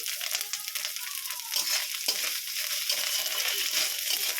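Onions frying in a pan with ginger paste and ground coconut give a continuous close, bright sizzle and crackle, with occasional light stirring scrapes.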